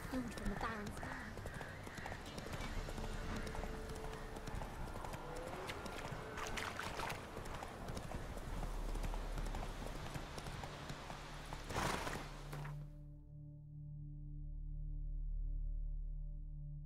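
Roach, the horse from the video game The Witcher, clip-clops along at a steady walking rhythm, hooves close and clear. A voice speaks over the steps, and they stop near the end, leaving a low ambient drone.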